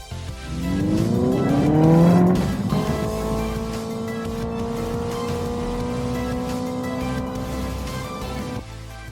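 A Hyundai Ioniq 5N electric car on the Sentul International Circuit gives a loud, steady, rising synthetic drive tone that climbs, dips and then holds for several seconds, with a light tire rush underneath.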